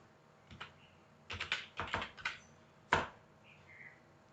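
Keys on a computer keyboard are pressed in a few scattered bursts of clicks with pauses between, fairly quiet and close in an otherwise silent room.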